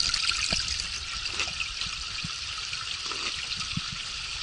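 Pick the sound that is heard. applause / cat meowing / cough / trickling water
trickling water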